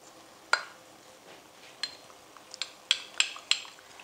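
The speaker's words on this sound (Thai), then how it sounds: "คนแป้งกับน้ำให้เข้ากันค่ะ" A spoon stirs cornstarch and water together in a bowl while making sauce for Thai duck rice, giving a handful of sharp, irregular clinks against the bowl, close and fairly quiet, with no talk.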